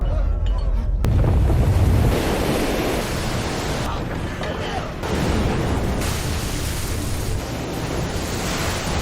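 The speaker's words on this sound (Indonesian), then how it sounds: "gunung bawah laut meletus dan menyebabkan gelombang sangat-sangat tinggi yang akan menenggelamkan kapal Herang" Heavy roaring surf and crashing waves, a dense wash of rumbling noise that surges loudly and stays steady throughout, with wind blowing across the microphone.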